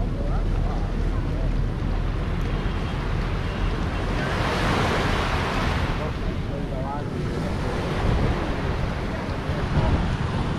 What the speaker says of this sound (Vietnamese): Sóng biển rất nhẹ nhàng, tình cảm.